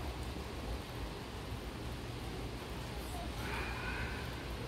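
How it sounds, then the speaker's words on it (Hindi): Steady light rain falls in Jeddah, a continuous even hiss with no distinct drops or voices, constant in level throughout. "ये देखिए जी बारिश शुरू हो गई है"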